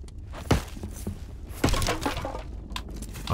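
Wooden furniture smashed apart in the dwarven mining game Return to Moria, two sharp splintering crashes about a second apart over a steady background hum, the second followed by rattling debris.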